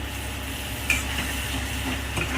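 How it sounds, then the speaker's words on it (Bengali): A little water goes into a frying pan during egg posto cooking, giving a steady close hiss and sizzle with a brief sharp splash near the start and light stirring scrapes after, no talking. "এবার আমি অল্প করে একটু জল দেবো"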